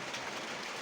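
Light drizzle falling in Niamatpur, Naogaon, a soft even hiss of rain on surfaces, faint and steady with no voices.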